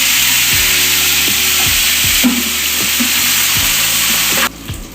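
Chili paste hits hot oil already holding bay leaf, whole garam masala and ginger paste, and a loud, dense sizzle fills the scene. Rhythmic low scraping from stirring runs underneath until the hiss drops off near the end.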